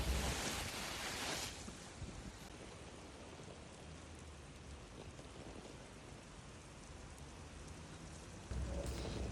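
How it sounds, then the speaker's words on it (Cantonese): Steady, dense rain falls through a Hong Kong summer downpour, a continuous broadband hiss throughout with a louder, rougher burst at the start and another near the end; no voices. "今日又落雨。"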